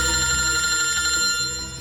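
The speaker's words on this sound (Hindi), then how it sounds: "फ्रेडी का फोन?" Electronic telephone ring tone with steady bright tones, loud and continuous, fading slightly at the end, in a police crime drama scene with no talk.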